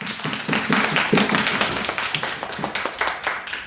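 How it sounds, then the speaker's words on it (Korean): A church congregation claps together during a sermon, a dense burst of hand claps from many people at close to moderate distance, steady for several seconds with no talk over it. "하늘께 영광의 박수 한번 쳐봅시다."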